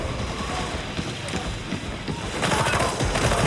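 Combat in the video game Warhammer 40,000: Darktide, where a grenade goes off amid bursts of rapid gunfire and crashing impacts, loud and dense, swelling toward the end.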